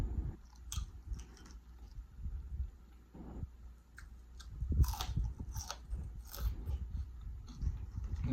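Close, wet chewing of ribeye steak during a mukbang, with irregular crunchy bites and mouth sounds, fairly quiet, growing busier toward the end.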